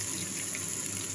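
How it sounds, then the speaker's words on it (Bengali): A little water poured into a pan of jackfruit curry, a brief soft steady splashing pour heard alone and fairly quiet. "এবার অল্প জল দিয়ে দেবো, সামান্য জল।"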